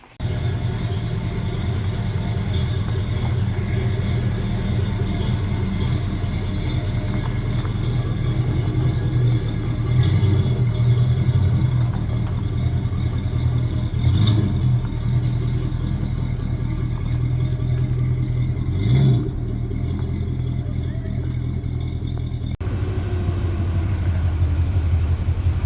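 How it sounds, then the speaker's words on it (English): A 1973 Ford Mustang Mach 1 engine rumbling steadily as the car drives out of a garage under its own power, a loud, deep, continuous engine drone close by, with no talking. "drive this 73 Mustang Mach 1 out of this garage under its own power for the first time in over 30 years"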